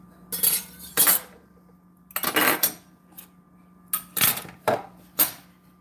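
Corned beef roast being lifted out of a pan, with bursts of metal utensils clinking and scraping against cookware in several separate clusters over a quiet background, no voices.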